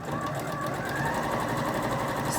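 A sewing machine runs a continuous stitch down the edge of a fabric face mask piece, producing a steady, close mechanical whir with a fast rattling hum throughout and no talk.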